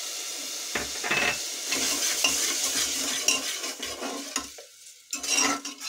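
Tomatoes with red chilli powder and rock salt fry in a pan as a spoon scrapes and stirs them, a busy close sizzle with repeated metallic clinks and brief pauses, no voices.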